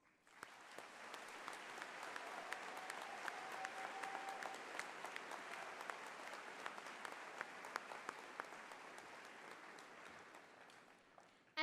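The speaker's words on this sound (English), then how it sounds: "let's give a round of applause to all the educators and parents who" Sustained applause from a large audience at a 2019 high school graduation ceremony, honoring educators and parents; dense, steady clapping fills the hall for about eleven seconds, loud and continuous with scattered sharper claps, no talking.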